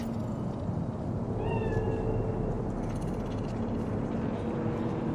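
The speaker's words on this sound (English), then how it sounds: "Fine-looking feline. Thought they'd all disappeared from the city." A cat meows in the video game Cyberpunk 2077, a few drawn-out rising and falling mews in the middle of the scene over a low ambient city hum, with no talking.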